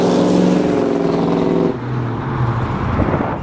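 A 1969 Ford Mustang accelerating with a throaty exhaust note, a loud, close rumbling roar that climbs and then drops back to a lower, rougher drone as the revs fall.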